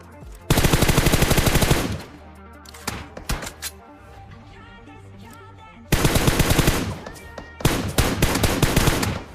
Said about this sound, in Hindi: तो यहाँ पर मैं M4 की 15 बुलेट में इनके 2 बंदे नॉकडाउन कर देता हूँ फटाफट से